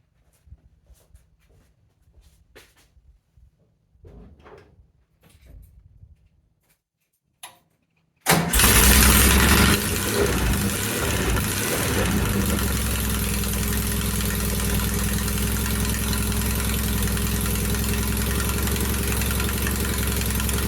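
A 1969 VW bus engine running with only half an exhaust fitted cranks and fires after some quiet shuffling, then settles into a loud, steady, rumbling idle that continues close up to the end.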